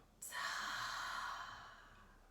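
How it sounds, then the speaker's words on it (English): One long deep exhale, soft and breathy, starting suddenly and fading over about two seconds, heard close and quiet with no talk. "taking one more deep breath in, a deep breath out."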